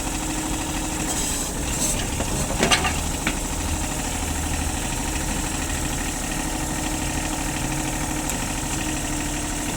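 A Japanese mini excavator with a 0.01 cubic metre bucket running and lifting, its small engine idling in a steady close mechanical chatter, with a brief clatter of the arm moving near the start.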